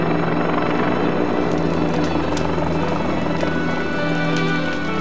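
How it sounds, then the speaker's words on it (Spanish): Helicopter dropping napalm gel over a wildfire, heard as a steady, loud rotor drone that holds constant throughout with a broad roar and no talking. "La forma más común de hacerlo es con un helicóptero que arroja una gelatina inflamable,"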